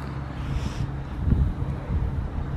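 Steady low rumble of wind buffeting the microphone on a windy hillside, a continuous gusty roar with a brief swell midway and no voices.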